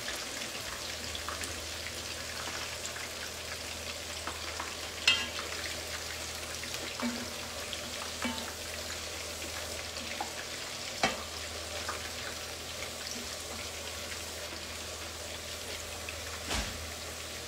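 Washed, salted aubergines fry in a pan of oil, giving a soft continuous sizzle and crackle with occasional sharper pops, fairly quiet and without speech.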